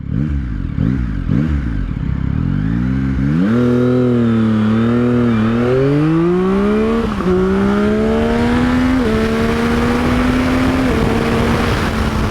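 A Yamaha XSR900 motorcycle pulls away from a clutch launch, revving hard through several rising sweeps with gear changes between them. The engine stays loud and close the whole time, with no talking.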